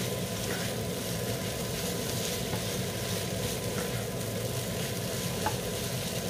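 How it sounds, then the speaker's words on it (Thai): Fried rice with canned mackerel is stir-fried in a pan, producing a dense, steady sizzle with faint occasional spatula scrapes, even and unbroken throughout. "จากนั้นก็ผัดให้เข้ากันค่ะ"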